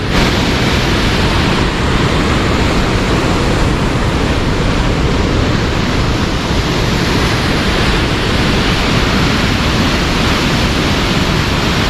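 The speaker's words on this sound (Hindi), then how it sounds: "ये पूरा पानी के बेग ला अपन देख सकते हो" Water rushing through Bankheta dam near Gharghoda, Raigarh, a loud, steady broadband roar of torrent and spray that holds constant throughout with no pauses and no voices.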